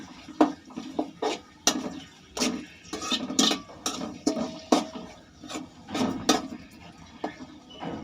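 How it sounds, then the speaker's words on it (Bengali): Ginger, garlic and onion are crushed by hand in a bachelor kitchen without a grinding stone, with irregular knocking and grinding strikes that repeat in uneven bursts, close and clear. "আদা, রসুন, পেঁয়াজ এগুলো ছেঁচছি"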